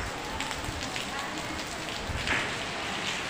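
Steady, continuous rain pours down close by, a dense unbroken hiss of drops hitting surfaces that never lets up, with faint voices now and then underneath.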